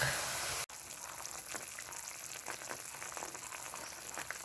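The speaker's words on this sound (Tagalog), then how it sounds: "Ayan, kumukulo na, no?" Quiet, steady bubbling and soft crackling of chicken liver adobo sauce with oyster sauce simmering in a pan, heard close up.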